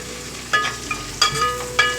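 Chicken frying in a pan for a home-style curry, a steady low sizzle with a few sharper crackling bursts spaced through the clip, close and alone without talk.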